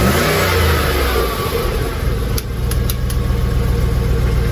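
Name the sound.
Jaguar XJ8 Sport engine revving after catalytic converter replacement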